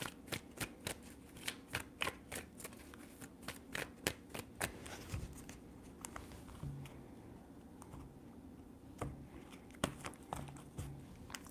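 Tarot cards are shuffled by hand in repeated bursts of quick riffling clicks and taps, close and crisp, with short pauses between rounds and no talking.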